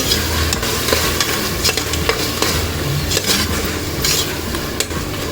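Tomatoes sauté loudly in a pan for vegetable rice, a dense continuous sizzle close up, broken by frequent scraping stirs of a spoon against the metal.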